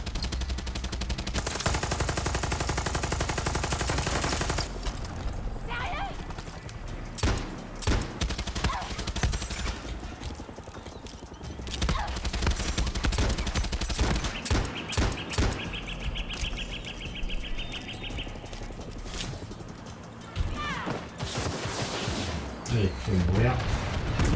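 A mounted turret machine gun hammers away in Far Cry 6, with long sustained loud bursts followed by choppier volleys, explosions and scattered impacts, and a voice speaking over the firing.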